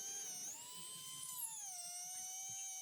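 A Dremel rotary tool fitted with a cone-shaped bit carves tough walnut, producing a thin, continuous high-pitched whine whose pitch dips and rises as the bit bites into the wood.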